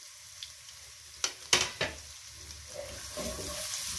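Half an onion dropped into hot ghee gives a few sharp clatters and a splash, then a soft, steady frying sizzle builds quietly up close.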